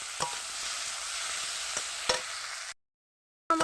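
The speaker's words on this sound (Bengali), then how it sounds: "আমার পুরোপুরি আলুটাও মশলার সঙ্গে ভাজা হয়ে গেছে।" Potatoes fry with turmeric, salt and spices for a kalbaus fish curry, a continuous near sizzle with occasional stirring knocks, then a brief silent gap before the frying resumes.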